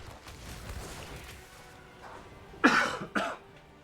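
Two quick, sharp coughs close to the microphone near the end, the first louder than the second, over a quiet background of faint game commentary noise.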